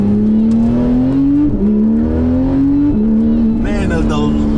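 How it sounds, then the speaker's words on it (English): A Porsche GT3 RS engine pulls hard through rapid PDK transmission upshifts, the steady drone dropping in pitch at each quick shift, loud and close from inside the car. "the rapid fire shifts of the PDK transmission is just absolutely incredible"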